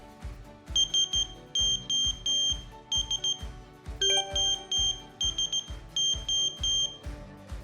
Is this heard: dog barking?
no